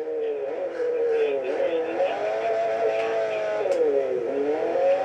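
Car wheels spinning in Forza Horizon 4, a steady wavering engine whine that rises and dips continuously, loud and close throughout.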